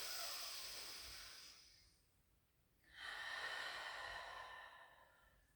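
A slow, audible breath in and out during a Pilates exercise, airy and close, with a short quiet pause between two long breathy swells and no talking.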